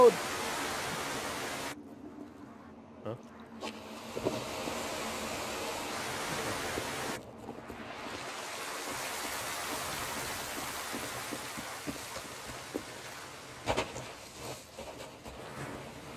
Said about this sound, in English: a waterfall or someone left their water running